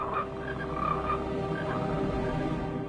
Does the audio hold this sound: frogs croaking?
yes